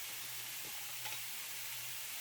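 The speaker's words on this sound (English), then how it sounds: "You can hear that just sizzling away." Cauliflower rice with garlic powder and cumin frying in a pan gives off a steady, soft hissing sizzle, close but quiet and unbroken, with no voices.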